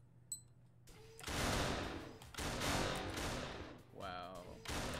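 Gunfire bursts in Pummel Party, a party video game, with loud rapid volleys of shots that come in several dense bursts separated by brief pauses, along with a short electronic sweep.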